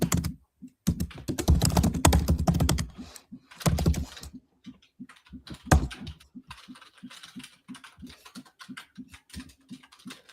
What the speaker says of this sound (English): You guys are going to listen to loads of typing now.